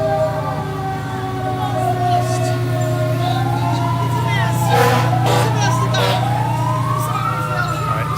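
A Trinidad Fire Department fire truck siren wails and rises nearby over a steady low engine rumble at a Christmas parade of lights in Trinidad, Colorado, with crowd noise and a passing vehicle mixed in.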